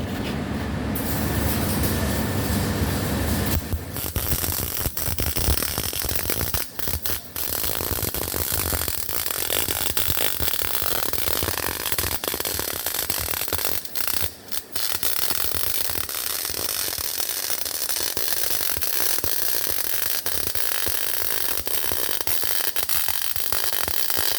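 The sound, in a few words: MIG welding a 3F downhill bead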